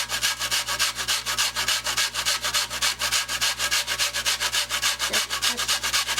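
Something is rubbed back and forth over a box grater for steak tacos, giving rapid, even rasping strokes at a steady rhythm, close up with no voices.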